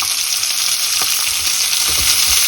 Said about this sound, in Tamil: இது நல்லா பொரிஞ்சதுக்கப்புறம் இதில் வெங்காயம் போடுறேன். அப்புறம் மிளகாய், அப்புறம் இஞ்சி.